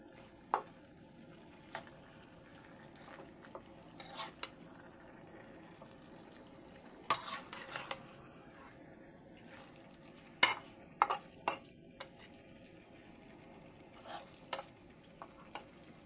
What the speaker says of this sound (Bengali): এবার আমি মাছের সঙ্গে আলু এবং টমেটো সুন্দর করে মিশিয়ে নিচ্ছি।